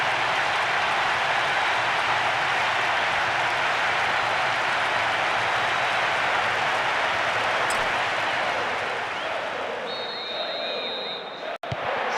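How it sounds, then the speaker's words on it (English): A capacity crowd roars at a PES 2010 football match on PlayStation 2, a broad steady wall of stadium noise that fades slightly toward the end, followed by a short sharp click. "There is nowhere quite like this for noise, the capacity crowd getting behind their team"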